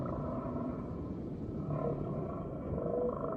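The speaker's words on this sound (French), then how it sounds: "Une baleine à bosse et son petit" Low, moaning tonal calls from a humpback whale and its young calf drift in and out over a dense, continuous undersea rumble, with a few brief higher wavering notes toward the end.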